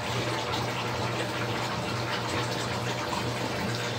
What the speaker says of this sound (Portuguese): Agora a Colarmac começou a jogar água.